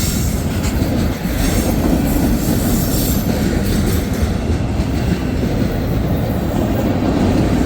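A CSX mixed freight train rolls steadily past close by, its string of empty tank cars giving a continuous loud rumble with rhythmic wheel clatter and occasional faint squeal, no voices.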